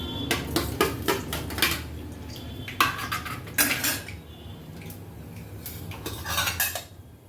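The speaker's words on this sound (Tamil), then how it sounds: "கடுகு பொரியட்டும்." Mustard seeds splutter and pop in a hot pan for a broad bean poriyal, with sharp irregular crackles bursting in quick clusters, close and fairly loud.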